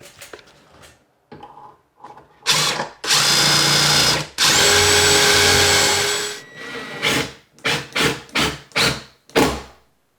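A power drill driving a screw with a pilot bit into an RTA kitchen cabinet: repeated loud whirring bursts, two long sustained runs in the middle and several short stop-start pulses, close up with no talk.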